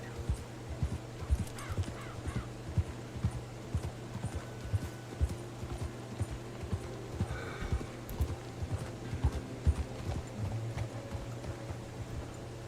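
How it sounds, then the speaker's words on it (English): Horse hooves trot steadily in a video game, a continuous rhythmic clip-clop of close, moderately loud footfalls, with faint bird caws and ambient rumble underneath. "let's go ahead and actually get off the horse here"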